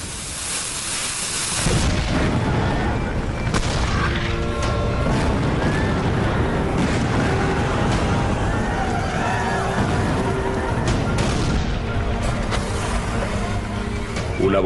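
Union cannons firing at the Battle of Gettysburg, heavy booming blasts and rumbling roar sustained and loud throughout, with layered battle noise swelling after a quiet opening.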